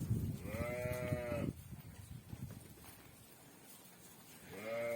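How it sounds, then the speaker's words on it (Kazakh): Lambs bleat while playing on a pasture after rain: two loud, harmonic bleats, one at the start and another at the end, with quieter rustling between them. "Қозылардың бәрі құтырып ойнап жүр."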